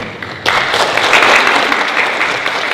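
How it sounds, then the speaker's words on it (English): Audience applause at a tech startup discussion panel, a dense wash of many hands clapping that starts abruptly and holds steady and loud to the end. "A big round of applause for that"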